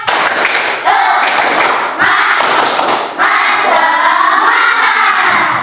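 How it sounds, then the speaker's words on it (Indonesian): A classroom of children performs a rhythmic spirited clapping chant, loud and close, with broadband hand claps in grouped bursts and young voices chanting along throughout. "Coba tepuk semangat dulu."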